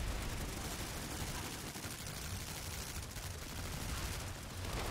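Gunfire in the video game Planetside 2: rapid, continuous automatic fire that stays fairly loud and steady throughout, ending on a sharp, louder report.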